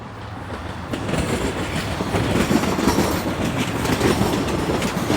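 A northbound Line 1 subway train passes in Toronto, its clattering wheels and rumble swelling from a moderate approach into a loud, sustained rush with clickety-clack beats and faint squeal, heard from nearby with no talk.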